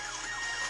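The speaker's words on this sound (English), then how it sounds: "Hopefully you can hear the siren that's blaring on that." Blaring siren of a spine enemy in Mega Man 11, a brief continuous electronic wail with a steady warbling tone, fairly loud and alone.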